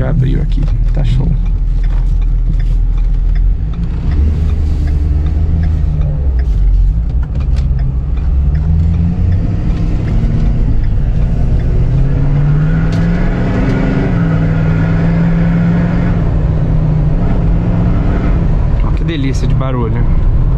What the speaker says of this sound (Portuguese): O barulho dessa caminhonete é bonita demais.